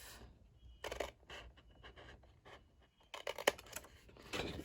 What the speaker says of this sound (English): I'm going to cut this square off